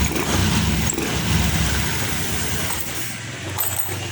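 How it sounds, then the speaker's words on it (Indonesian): A Honda Beat scooter with a weak battery and a starting fault gets a double electric-starter attempt, giving a loud, steady whirring cranking sound for about four seconds with no voices. "Coba kita double starter."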